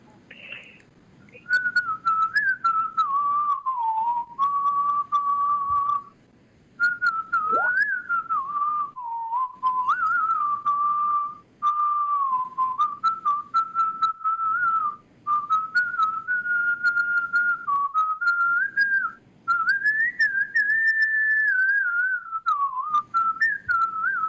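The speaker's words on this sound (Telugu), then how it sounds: "ఒక మంచి ఈల పాట మాకు వినిపిస్తారు ఈరోజు?" A whistler performs a melodic song, a continuous clear whistled tune with short breaths between phrases, loud and close as a guest on a Telugu radio talk show.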